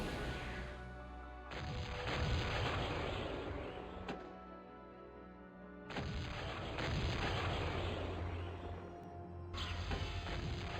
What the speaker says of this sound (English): Yeah, 6 artillery cannons sounds fun